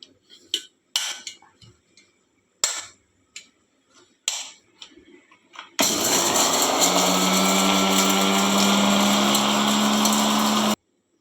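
Mixer grinder powdering cumin, fenugreek and mustard seeds, a loud steady whirring roar for about five seconds after a series of sharp clicks and knocks.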